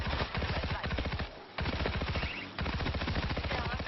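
Rapid automatic gunfire in the zombie shooter World War Z Aftermath, a dense, loud, continuous stream of shots broken by two brief pauses.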